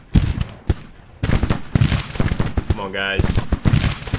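Musket volleys crackle in Grand Tactician: The Civil War, a dense run of sharp popping shots in rapid clusters, loud and close, with someone talking briefly over them.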